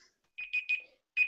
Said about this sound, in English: that's my buzzer